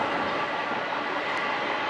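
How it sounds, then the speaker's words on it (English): A long freight train of mostly empty containers rolls past continuously with a dense, steady rumble and rattle of wagons, fairly close, with no voices. "That's a good long train."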